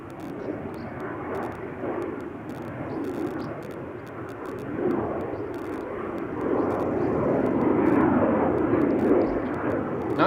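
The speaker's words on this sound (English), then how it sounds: "KLM Embraer 190." A KLM Embraer 190 jet roars on takeoff at Amsterdam Schiphol Airport, a steady broadband engine rumble that swells louder over ten seconds, heard up close and alone.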